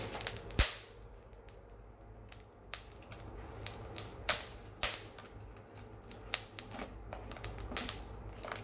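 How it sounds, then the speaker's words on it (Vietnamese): Salt crackles and pops while crab steams, sharp scattered snaps at irregular intervals, some loud and close, over a quiet low hum. "Nghe cái tiếng muối nó nổ."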